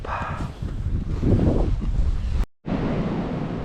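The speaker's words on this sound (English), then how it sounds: "This waterfall dam, pretty cool." Water pouring over a waterfall dam on a remote trout lake in winter, a steady broadband rush with wind buffeting the microphone, broken by a brief dropout near the end.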